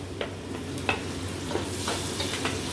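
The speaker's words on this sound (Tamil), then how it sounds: "வெங்காயம் நல்லா வதங்கட்டும்" Chopped onions with tomatoes sizzling steadily in oil in a pan while being stirred for a mushroom biryani masala, with soft scraping stir strokes over a continuous close fry hiss and no talking.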